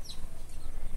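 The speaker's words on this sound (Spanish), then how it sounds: "Ahí te estoy mostrando mis gallos, los que escuchas aquí" Roosters in a backyard garden give a brief burst of clucking and crowing, close and moderately loud against a rumbling low background.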